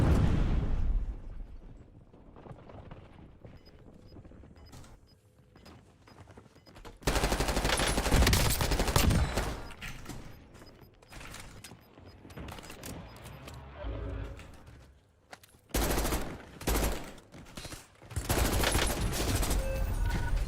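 Bursts of rapid submachine-gun fire crackle through a Call of Duty-style game battle, loud rattling volleys separated by quieter stretches, with some talking now and then.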